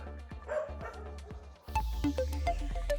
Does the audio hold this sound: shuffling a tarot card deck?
no